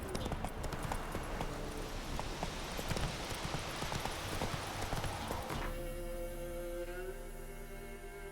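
Geralt's horse Roach trotting in Witcher 3, with steady close hoof clip-clops throughout before the hoofbeats fade under ambient game sound.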